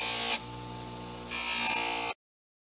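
A small polishing wheel on a rotary tool buffing a vintage putter, a steady high-pitched whine that dips quieter for about a second, then rises again before cutting off abruptly.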